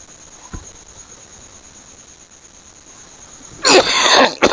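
A person with a cough gives a short burst of harsh coughing near the end, after a faint thump, over a quiet background with a steady high insect-like whine.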